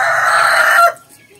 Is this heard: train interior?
no